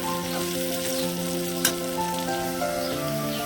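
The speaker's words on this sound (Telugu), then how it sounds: "కూర మాడకుండా తిప్పుకుంటూ ఉండాలండి." Thinly cut potato curry with palak sizzles and fries in a pan while being stirred, a steady close crackle with one brief clatter of the utensil partway through.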